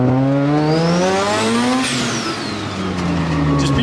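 A Datsun with a 13B rotary engine is driven hard: a loud, close engine revs up in a rising pitch sweep, then drops back and climbs again, with no speech.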